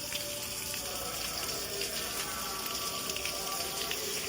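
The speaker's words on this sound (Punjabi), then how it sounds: "ਦੇਖੋ ਬਾਰਿਸ਼" Steady rain patters down continuously at a village gurdwara, a dense even hiss of drops hitting surfaces, with no voices.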